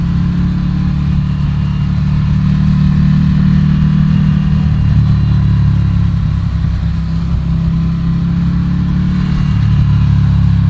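A Ducati Scrambler Café Racer with an 803cc L-twin engine and wet clutch drones steadily while being ridden, a loud, continuous low rumble holding for about ten seconds with slight shifts in pitch and no voices.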